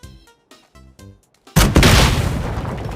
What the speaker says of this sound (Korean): 아 이렇게 터지는구나